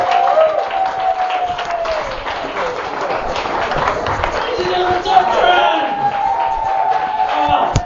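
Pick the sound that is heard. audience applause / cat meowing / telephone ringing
audience applause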